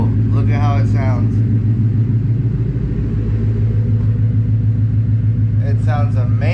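An S650 Ford Mustang GT idles through a custom exhaust with an H-pipe, X-pipe, muffler delete and quad tips, giving a deep, steady, close rumble throughout, with someone speaking over it at the start and end.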